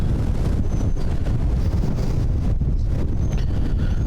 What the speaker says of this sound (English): we get wind out here all the time